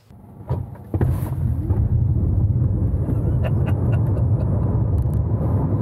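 A car accelerating hard up to 60 mph: after a brief quieter start, a loud, steady road-and-motor rumble builds and holds, heard close from inside.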